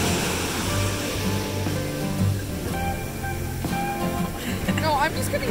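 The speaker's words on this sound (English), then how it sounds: "waves are pretty awesome." Ocean waves break and wash along a beach in a broad, continuous roar of surf, loud and near. People talk over the water noise.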